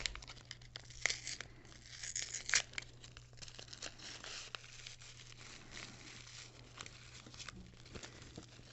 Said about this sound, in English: So I'm going to open up your mint tea bag.